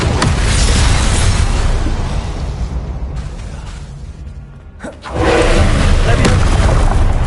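Spell blasts in Hogwarts Legacy, Confringo fire-explosion spells traded with shielding, loud booming bursts and crackling impacts, a quieter stretch and then a sudden heavy blast, with a voice calling out spell names over them.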